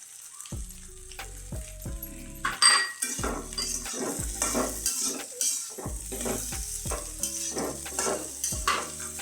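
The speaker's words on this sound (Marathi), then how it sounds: "एकसारखं हलवून घ्यायचं" Spatula stirring a puri bhaji potato mixture in a metal pan, with repeated scraping and clinking strokes in an uneven rhythm over a soft sizzle, close and fairly loud, no voices.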